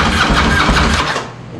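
A starter cranks an abandoned Harley motorcycle engine, a loud, dense mechanical churn with pulsing low rumble that carries steadily before fading slightly near the end.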